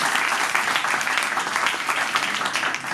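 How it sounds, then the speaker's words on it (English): Audience applause at an academic session on EU-India relations, a continuous even patter of many hands clapping, moderately loud and sustained throughout without any break. "A big round of applause for you, sir."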